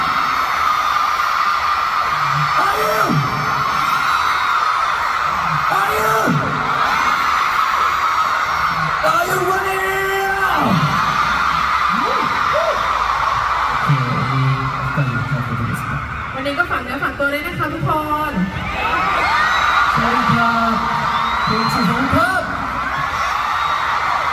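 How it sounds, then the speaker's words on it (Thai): A huge concert crowd at a show in Bangkok screams and cheers in a constant roar, while performers speak over the arena noise. "ทุกคนต้องตอบพวกเราด้วยเสียงกรี๊ดของทุกคนนะคะ"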